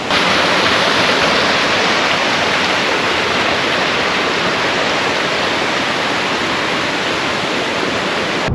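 A waterfall in the Vosges mountains of France roars loud and steady, a dense unbroken rush of falling water heard up close with no voices.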